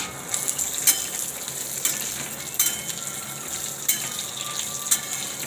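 Cumin seeds and peanuts sizzle and fry steadily in hot oil in a pan for sabudana vada, with occasional louder crackles and stirring scrapes at close range, no talking.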